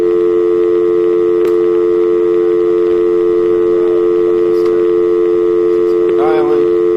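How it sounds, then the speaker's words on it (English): A WebTV Plus modem dials out to its server: a steady, loud dial-tone drone holds throughout, with a few brief clicks and a short warbling burst of tones near the end. "your web TV will probably just start dialing right away"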